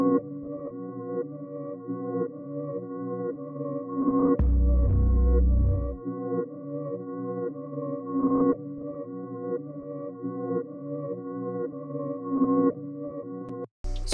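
Dark, slow synth melody in a beat, built from just two simple layered sounds: sustained tonal notes repeat in a steady loop, with a deep low swell around the middle, played alone.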